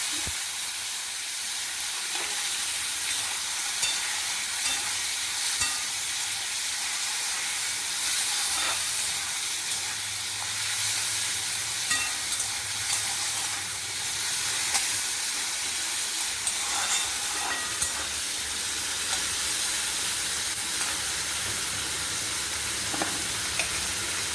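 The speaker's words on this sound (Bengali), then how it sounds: "এবার আমি তেলে কালো জিরে ফোড়ন দিচ্ছি, একটা তেজপাতা দিলাম, দিয়ে টমেটো কুচি দিচ্ছি" Nigella seeds, a bay leaf and chopped tomato frying in hot oil, a steady dense sizzle and hiss with occasional stirring scrapes, close and continuous throughout.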